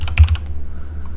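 Quick burst of computer keyboard typing, several close key taps in the first half-second, then quiet room tone.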